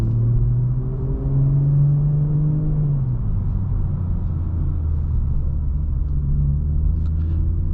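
A 2023 BMW M440i coupe in Sport Plus mode, its engine rumbling loudly and rising in pitch as it accelerates, then settling into a steady droning cruise, heard from inside the cabin with no talk.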